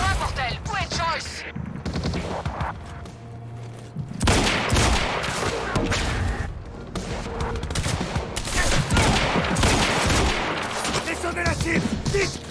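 Gunfire from the video game Quantum Break, dense rapid volleys of shots and automatic bursts crackling almost without pause, with brief lulls, game voices and music mixed in underneath.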